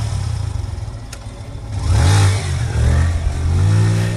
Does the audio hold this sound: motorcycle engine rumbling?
yes